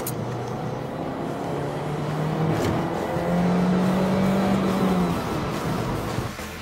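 A car pursues a taxi, its engine droning steadily and swelling into a louder, higher whine midway before easing off near the end; no voices are heard.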